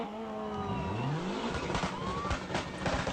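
Rally cars race past at full throttle, engines revving loud and close with rising and falling pitch as they accelerate through the stage, joined by rough, gritty rumble toward the end.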